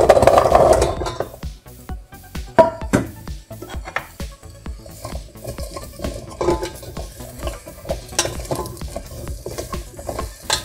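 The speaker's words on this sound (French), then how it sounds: "Je vais y faire revenir les dés de potimarron quelques minutes." Diced red kuri squash sautéing in melted butter in a large saucepan gives a continuous close sizzle, broken by frequent clinks and scrapes of a utensil stirring against the pan.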